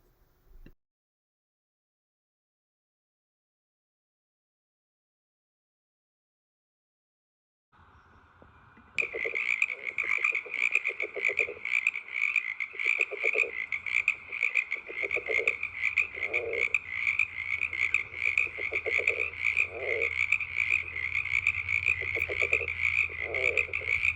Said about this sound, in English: let's listen to its call in the next slide